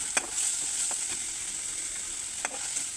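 Turmeric-and-chili-rubbed hilsa fish pieces are laid into cooked-down spice masala, sizzling steadily at close range while a few sharp clinks and scrapes of the utensil sound against the pan.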